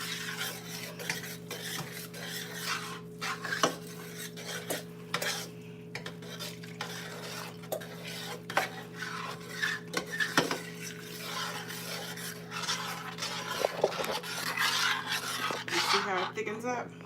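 A spoon stirs thick coconut cream pie filling in a pot, a steady scraping rasp with irregular clicks of utensil against metal, close and moderately loud, with steady background hum throughout.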